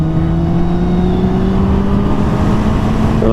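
A Yamaha Maxim motorcycle pulls away under load, its engine drone rising steadily in pitch as it accelerates, loud and close, with a quick change in tone at the very end as it shifts into second gear.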